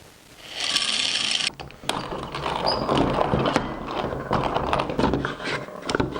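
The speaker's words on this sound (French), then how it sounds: "pourquoi je peux pas moudre du maïs avec?" A coffee grinder grinds dried maize kernels for polenta, producing a steady, close, gritty rasping and crunching that continues throughout with small irregular knocks.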